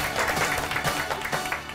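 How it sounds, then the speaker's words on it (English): Short, fairly quiet round of applause from pupils in a school class for a classmate, a soft patter of many hands with a voice faintly under it. "can we put another round of applause for Leo?"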